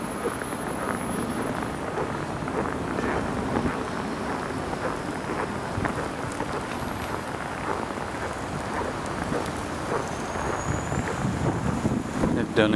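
Strong wind during a 2013 Montreal blizzard roars and buffets the microphone in a continuous, rough rumble. The gusts rise and fall slightly with no pause throughout.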